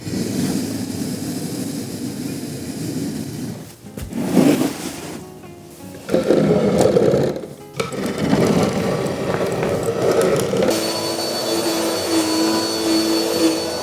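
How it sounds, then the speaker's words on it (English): A vacuum cleaner runs steadily over a rug in an apartment living room, a loud continuous whine and roar that dips briefly as the head is pushed and pulled, with no voices. "So now is the time to give it a good little vacuum."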